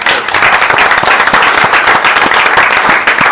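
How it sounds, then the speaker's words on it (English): Applause from the audience at a school board meeting: dense, steady clapping from many hands, sustained and fairly loud for the whole stretch, with no talk over it. "I would just ask if we give him one more round of applause"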